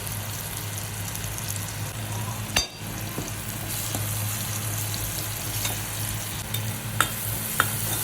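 Onion, green chili and spice powder fry in a pan for a bitter gourd and potato dish, a steady close sizzle with soft stirring scrapes and a few sharp clinks of a utensil against the pan.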